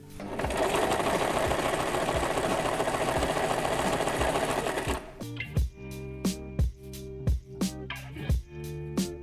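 A sewing machine stitches straight lines and corners through paper, running in a steady continuous whir for about five seconds, then breaking into a series of short separate bursts as it sews in brief stops and starts.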